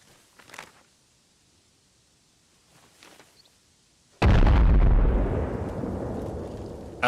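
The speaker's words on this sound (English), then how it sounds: "I like how our artillery never stops shooting." Artillery fire in the video game Arma Reforger: two faint distant booms, then a sudden loud, heavy blast that rumbles and rolls on for several seconds without any talking.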